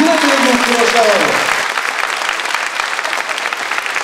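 Stormy applause for a children's theatre troupe at its 20th anniversary show; a voice speaks over the first moments, then dense clapping from a large audience continues alone, steady and close.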